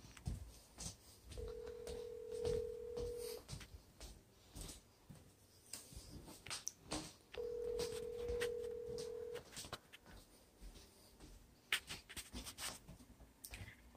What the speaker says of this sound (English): Hey Siri, call Chris on speakerphone. Calling Chris, mobile on speaker